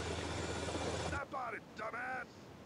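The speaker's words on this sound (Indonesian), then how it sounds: "Dengan menggunakan sebuah helikopter kecil ini." A small helicopter in the video game GTA Vice City drones with a steady rotor hum for over a second, then cuts to game sound effects with brief tonal chirps.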